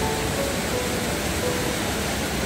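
Rushing water of a mountain valley stream with waterfalls and pools at Yongchu Valley in Hamyang, Korea, a steady broadband roar that stays constant and fairly loud throughout, with no voices over it.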